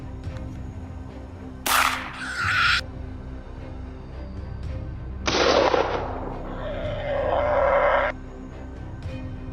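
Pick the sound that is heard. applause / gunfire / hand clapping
gunfire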